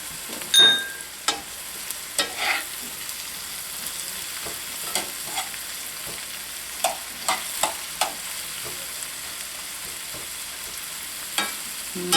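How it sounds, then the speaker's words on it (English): Green beans sizzle quietly in a pan, with a soft crackle broken by scattered scraping and stirring clicks. "I'm going to let them sizzle for a minute."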